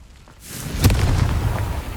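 A Confringo blasting spell goes off in Hogwarts Legacy, a sudden booming burst after a short lull, followed by a sustained rumbling roar with crackling debris that stays loud to the end.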